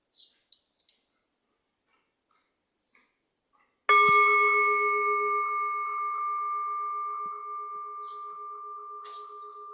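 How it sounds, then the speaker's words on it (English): A mindfulness bell is struck once after a few small clicks, ringing clear and sustained with bright steady overtones that slowly decay over several seconds in a quiet room. "If you could ring the bell when you're ready, Jane, please."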